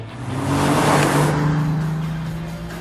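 Ford V6 car engine, about 200 horsepower, revving in The Grand Tour video game, a single loud rising and falling rev swelling in the middle and fading toward the end.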